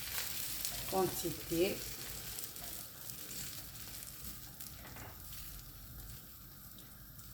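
Potato omelette mixture sizzling and frying in a small hot pan, a steady crackling hiss with stirring scrapes, louder at first then settling, under a brief spoken word.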